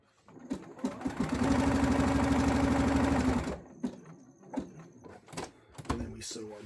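A sewing machine runs a very narrow, short stitch at 0.8 length on a waistband elastic in a close, steady whirring burst of about three seconds, followed by quieter clicks and handling noises.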